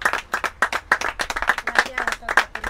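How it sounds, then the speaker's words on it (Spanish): An audience at a footbridge inauguration applauds, a few seconds of brisk close clapping that is not too dense, with a voice speaking over it. "Ahora vamos a hacer aplausos"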